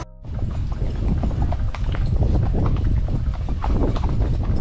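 Several horses returning from a trail ride at a horseback riding spot in Puerto Rico, hooves clip-clopping in a steady, uneven patter close by, with wind buffeting the microphone throughout.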